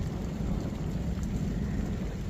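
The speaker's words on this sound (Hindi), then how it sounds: "ये सुनिए ज़रा बादल की गरज धमक सुनिए।" Steady rain falls on a day in Welling, London, with a low, continuous rumble of thunder running under it; there is no talk.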